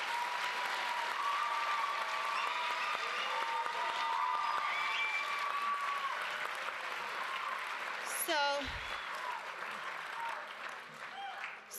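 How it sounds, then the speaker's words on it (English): A round of applause from the audience at a high school lecture on Africa's plastic revolution, sustained clapping of a seated crowd lasting throughout, fairly quiet overall with a brief thump partway through. "can we give a round of applause to Dr. Aheto, please?"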